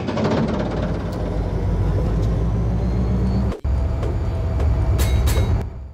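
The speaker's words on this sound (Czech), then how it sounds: "to jsou ty ruský vlaky" Russian trains rumble in a video game, a steady loud rolling roar with rhythmic clacks, a brief cut midway and sharp metallic squeals near the end.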